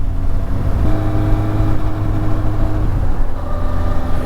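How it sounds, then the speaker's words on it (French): A Suzuki Bandit motorcycle engine rumbles steadily while riding, a loud, close low-pitched growl with a slight pitch shift partway through, with no talking. "Le son du moteur est toujours aussi sympa."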